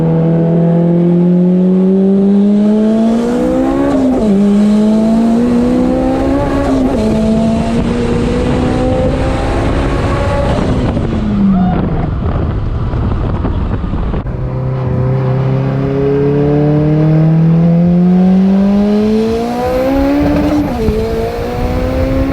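A 700-horsepower turbocharged Honda K-swapped Lotus Elise widebody revs loudly and close, the engine note climbing and falling through several repeated pulls with sharp drops between them.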